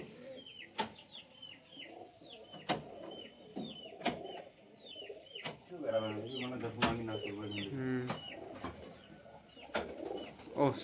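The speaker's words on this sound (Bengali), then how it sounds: "চল এবার পায়রা ছাড়।" Madras pigeons at a loft give repeated near coos and short chirping calls, broken by sharp fluttering bursts as they are let out, with people talking over the birds throughout.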